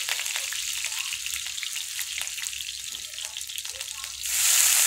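Fennel seeds and chopped green chilli frying in hot oil for a chicken fry, a bright crackling sizzle with small pops that grows louder and hissier at the end, heard close with no voices.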